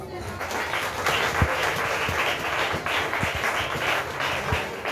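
A church congregation applauds to acclaim Jesus, sustained mixed clapping and voices filling the room, with a few heavier thumps under the steady wash of hands.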